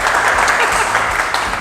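A live studio audience at a retreat show claps in steady, dense applause, loud and close throughout the short moment, with a voice faintly underneath.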